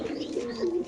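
A pigeon at a pigeon seller's stall gives a single short, low cooing call, close and fairly clear, lasting about a second with no talk over it.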